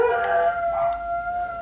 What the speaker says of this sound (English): Excuse my dogs again.